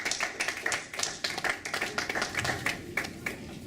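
A church congregation claps in praise of the Lord, a quick irregular run of hand claps at moderate distance, steady throughout with little else heard.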